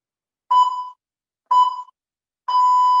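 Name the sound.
workout timer buzzer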